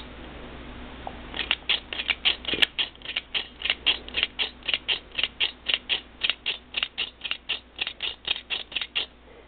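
A handheld stitcher sews white thread through muslin with a rhythmic series of about two dozen sharp mechanical clicks and creaks, evenly paced and close, with no talking.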